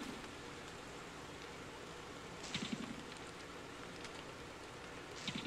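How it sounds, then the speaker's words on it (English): Steady, faint rain hisses continuously in the survival game Don't Starve, a soft even wash of drops with a couple of brief louder patter bursts and no voices. "You can kind of hear the sound of the rain stopping."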